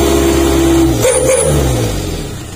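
A Mitsubishi L300 pickup fitted with a serigala exhaust and elbow revs up loudly close by, a deep droning engine note that rises with a throttle blip midway, then settles and fades slightly.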